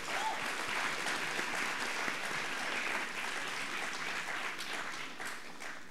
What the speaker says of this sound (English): Can we have another big round of applause for all our graduates?